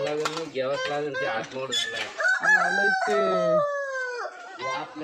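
Free-range village chickens cluck and a rooster crows loudly nearby, its long drawn-out call rising and falling over a few seconds amid scattered clucks, with a person talking in between.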